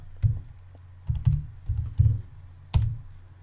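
Typing on a computer keyboard with a few separate clusters of close, crisp key clicks and pauses between them, with no voices.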